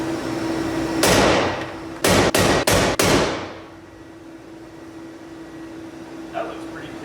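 Car body metal on a Nissan 240SX being hammered straight, one heavy metallic blow followed by a quick run of four more ringing hits over a steady background hum, then quiet.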